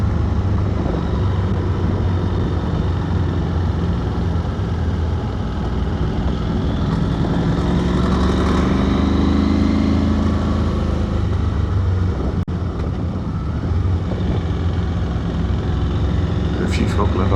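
A KTM 890 Adventure motorbike engine hums steadily while riding over hilly roads, with continuous wind rush and a rider's voice talking over it.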